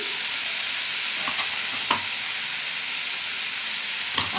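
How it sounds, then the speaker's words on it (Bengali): Onion, green chili and garlic stir-frying in hot oil with salt and turmeric, a steady close sizzle with a few sharp scraping clicks of the spatula against the pan. "হলুদটা দিয়ে ভালো করে একটু নেড়ে নিই একটু হালকা লাল লাল করে ভেজে নিই"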